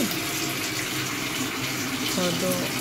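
Tap water gushes steadily into a bucket in a household setting, a continuous close splashing rush with a faint voice briefly underneath.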